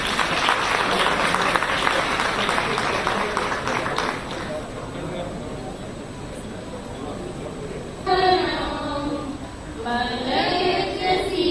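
An audience at a public gathering gives loud, dense applause for women, the clapping fading to a murmur before voices and cheering rise again.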